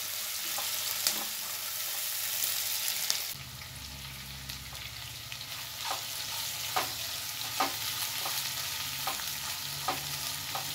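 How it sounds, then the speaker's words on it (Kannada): Food sizzles steadily while frying golden brown in a pan for mushroom biryani, with a dense hiss and scattered clicks of a spoon stirring against the pan. "ಸ್ವಲ್ಪ ಗೋಲ್ಡನ್ ಬ್ರೌನ್ ಮಾಡಬೇಕು. ಅಲ್ಲಿ ತನಕ ಸ್ವಲ್ಪ ಫ್ರೈ ಮಾಡ್ಕೊಳ್ತೀನಿ."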